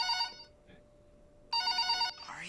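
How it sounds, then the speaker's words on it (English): In the VRChat game, a phone rings in two electronic bursts separated by a short pause, loud and close. A faint voice is heard briefly between the rings. "Can you hear the phone? Somebody's calling us."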